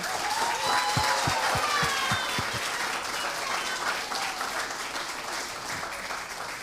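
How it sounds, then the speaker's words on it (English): Audience applause after a kindergarten school production of Disney's Frozen Kids, a dense, loud burst of clapping filling the room with a few sharp individual claps standing out early, steady throughout. "We're going to have one more final applause and bow for y'all."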